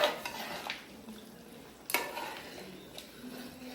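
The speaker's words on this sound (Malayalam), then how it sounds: "ഇതെല്ലാം നല്ലപോലെ ഇളക്കി മിക്സ് ചെയ്യാം." A spatula stirs black chicken (karimkozhi) masala in a pan, making faint, scattered metallic scrapes and clinks, with one sharper knock partway through and a low sizzle underneath.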